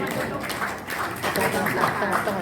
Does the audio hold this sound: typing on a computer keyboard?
no